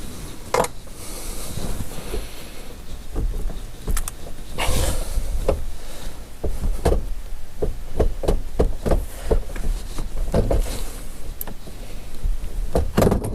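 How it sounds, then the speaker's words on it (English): A steering column being worked loose from a 1995–2004 Toyota Tacoma, with irregular metallic knocks, clunks and rattles at close range, some sharp thumps among scraping and shifting noises. "our steering column should just pull right out"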